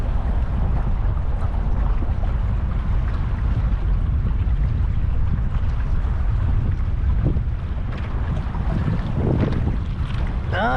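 A dual-engine boat on the Colorado River near Hoover Dam runs with a loud, constant low rumble, mixed with heavy wind buffeting the microphone and water rushing past the hull.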